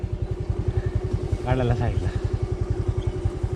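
A motorbike rides over a rough, difficult road, its engine thudding in a steady rapid pulse close by while a person speaks briefly over it.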